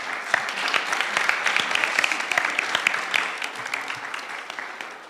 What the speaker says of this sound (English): Big round of applause to them.